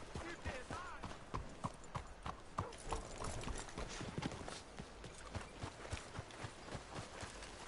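Horse hooves clip-clop at a steady walking rhythm in the Red Dead Redemption 2 video game, close and fairly quiet, with voices talking over the hoofbeats.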